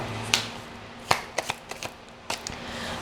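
An oracle card deck being shuffled gives a series of crisp, scattered card snaps and riffles over a faint background hum, close and fairly quiet.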